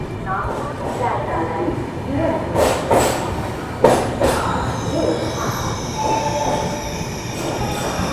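A passenger express train rumbles past alongside on the Mumbai–Nagpur line, close by with a steady roar and metallic rattling, occasional clanks and squeals rising over the noise.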